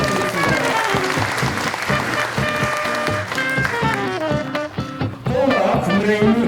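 Sustained applause from an audience at a Korean political party debate forum, dense and loud throughout with a steady clatter of many hands clapping.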